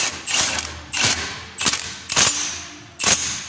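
A 30mm nut on a Land Rover Defender Td5 A-frame ball joint being tightened, heard as five sharp, loud, evenly spaced mechanical impacts or clicks about half a second apart, close by with no speech.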